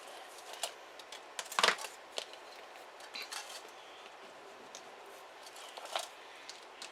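Scissors snip through material while a Halloween grapevine wreath and bow are being made: a few quiet, scattered clicks and cuts with long pauses, up close but faint.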